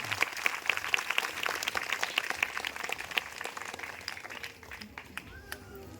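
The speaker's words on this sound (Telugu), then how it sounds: "గట్టిగా చప్పట్లు కొట్టి దేవుని మహిమ పరుద్దాం" A congregation at a Christian sermon claps, sharp individual claps strongest at first and then thinning and fading, heard somewhat distantly with a voice speaking.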